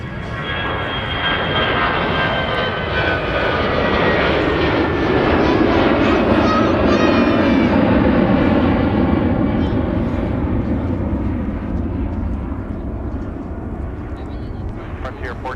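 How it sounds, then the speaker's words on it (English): An airplane takes off at Minneapolis–Saint Paul airport, a loud, steady engine roar that swells and then slowly fades over about fifteen seconds while voices talk over it nearby. "there's an airplane taking off"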